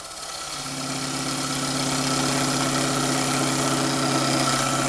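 Coronet Herald woodturning lathe spinning at about 1,000 rpm, a steady motor hum with a constant mid tone and faint rattle, slowly building and holding loud with no talk.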